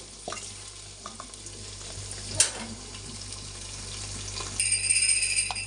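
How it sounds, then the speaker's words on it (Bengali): Rice and lentils for bhuna khichuri being fried and stirred together with onions in a pot, a soft steady sizzle with a few scraping stir strokes, growing louder near the end. "সব চাল ডাল দিয়ে একসাথে বেজে নেব"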